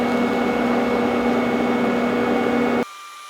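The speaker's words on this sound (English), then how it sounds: "We just don't want this stuff moving on us when we start welding it." Steady crackling buzz of an electric welder laying a bead on a custom exhaust for a 1967 Barracuda, loud and continuous with a hum line, then cutting off abruptly near the end leaving faint background hum.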